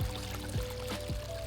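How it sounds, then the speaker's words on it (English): A small garden water feature where a waterfall shoots out and pours into a little pool, a steady close trickling splash with a few brief gurgling sweeps, fairly quiet and without talk. "that waterfall just shooting out there into the little pool"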